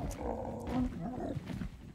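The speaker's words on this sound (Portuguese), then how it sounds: "Tem três pássaros aqui brigando com tigre." A tiger roars in ARK: Survival Ascended while birds fight it, a fairly faint, rumbling growl that rises and falls under quiet background sound.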